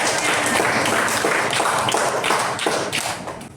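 Seventh-grade students in a junior high Indonesian language classroom break into applause, a thick, sustained clatter of many hands that tapers slightly at the end, with faint knocks and shuffling mixed in.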